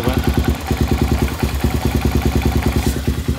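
An Enduro motorcycle engine idling after an electric start on a new battery, a loud, close, steady rapid thumping beat with mechanical clatter and no voices.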